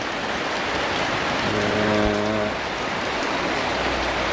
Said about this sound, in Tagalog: madaling araw yung ulan. Hanggang sa ngayon magtatangali na, hindi pa rin natigil.